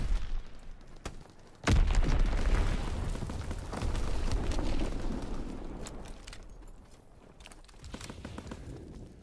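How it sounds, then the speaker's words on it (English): A heavy enemy bomb explosion in a Call of Duty WWII battle set in the Ardennes Forest strikes suddenly and loud, its rumble rolling on for several seconds amid crackling debris and distant combat noise. "Enemy bomb incoming."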